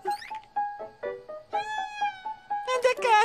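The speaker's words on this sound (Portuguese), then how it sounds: "Anda cá, gatinha linda!" Cartoon cat meowing in a series of short, tonal mews followed by a longer rising and falling cry, close and clear, ending in a louder burst of overlapping calls.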